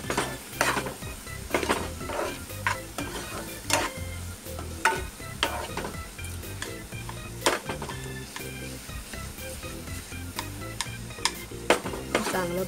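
Chopped onion and tomato with turmeric fry in a pan while a utensil repeatedly scrapes and clacks against the metal. The stirring comes in sharp strikes over a continuous close sizzle, with no one speaking.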